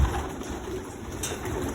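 Racing pigeons in a loft holding marathon, speed and middle-distance birds, giving soft throaty coos that overlap against a quiet indoor background, fairly close.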